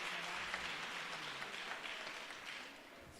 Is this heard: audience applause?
yes